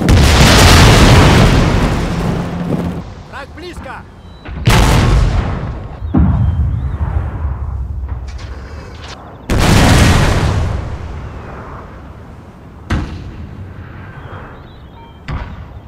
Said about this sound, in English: General Landrin of the Russian army ordered the bombardment of the village.